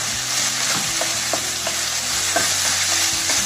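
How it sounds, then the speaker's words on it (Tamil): Ridge gourd and peanuts being stirred in a hot pan, a steady sizzle under repeated scraping strokes of a spatula against the metal, close and fairly loud with no voices. "நல்லா கலக்கிட்டு"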